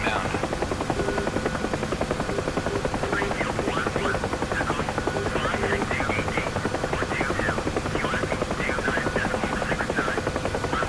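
A UH-1H Huey helicopter in the DCS flight simulator drones steadily in flight, a loud, even rotor whop and turbine whine held close and constant throughout, with no voices.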